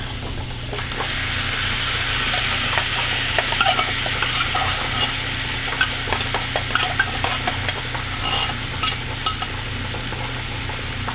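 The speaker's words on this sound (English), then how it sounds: "Let's put that gravy into the pan." Gravy hitting a hot frying pan with turkey gives a steady, close sizzle with a constant low hum underneath and scattered light scraping and clinks from stirring, no voices.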